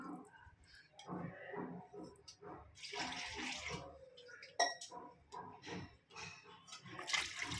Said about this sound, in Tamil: உங்களுக்கு தேவையான அளவு தண்ணி ஊற்றிக்கலாம்.